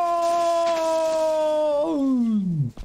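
A dog in a survival video game lets out one long, sustained howl that bends downward and fades at the end, close and clear without talk.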